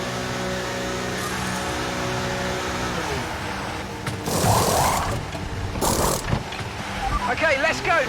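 Pit stop wheel change in F1 23, with whirring mechanical and ratcheting wheel-gun sounds over a steady idling engine drone, then louder bursts as the car pulls away, under a voice.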